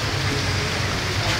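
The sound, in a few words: rain falling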